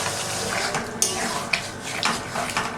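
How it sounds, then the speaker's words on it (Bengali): Hot water poured into a pan of chilli fish made with katla fish gives a loud continuous splashing, bubbling wash with a few sharp clinks and spits along the way. "সেই গরম জলটা এখানে দেবো।"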